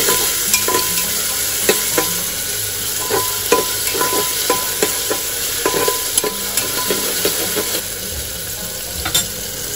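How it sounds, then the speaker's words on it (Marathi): Onions fry in a pan with a loud, continuous sizzle, punctuated by frequent sharp clicks of stirring throughout. "कांदा पण लाल असून मस्त फ्राय करायचं आपल्याला।"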